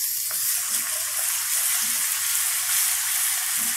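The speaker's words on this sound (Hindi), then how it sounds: "अब हम इसके अंदर लहसुन और अदरक का पेस्ट डालेंगे" Garlic and ginger paste frying with golden onions gives a steady, close sizzle with soft crackles and no voices.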